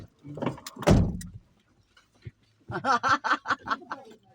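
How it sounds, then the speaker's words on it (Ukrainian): A car door shuts with a single solid thump early on, followed after a pause by people chuckling and laughing inside the vehicle. "Аня, закрий двері"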